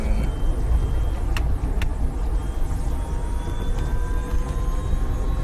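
An electric car's motor whirs quietly while driving, a steady low rumble with faint whine under road noise and a couple of brief clicks, with no one speaking.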